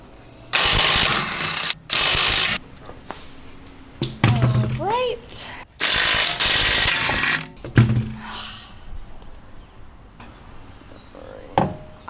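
Socket ratchet wrench tightening lug nuts on a Tesla wheel during a tire swap, heard as bursts of loud, rapid mechanical clicking in a few separate runs, with people talking in between.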